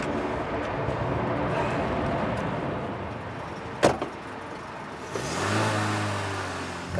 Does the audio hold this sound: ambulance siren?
no